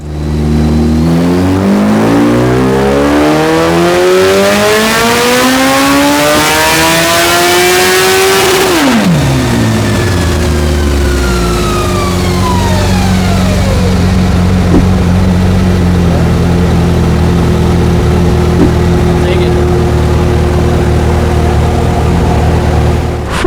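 Modified 1600cc engine of a 2022 Suzuki Hayabusa revving hard on a dyno, climbing in a long rising pull to a peak before dropping sharply and settling into a loud steady idle drone, close and continuous.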